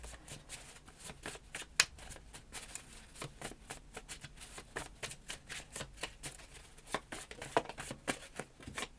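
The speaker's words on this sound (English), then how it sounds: "It's really hard to shuffle these ones." Cards are shuffled repeatedly, with quick riffling bursts and soft snaps coming in an irregular rhythm, close and fairly quiet.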